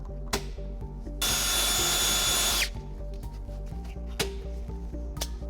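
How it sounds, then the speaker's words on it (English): A power drill with a 1/4-inch bit enlarging a hole for a plastic rivet while fitting a trailer hitch on a Jeep Cherokee Trailhawk. It gives one loud, close whine lasting about a second and a half, with light clicks before and after. "Use a 1/4-inch drill bit to enlarge."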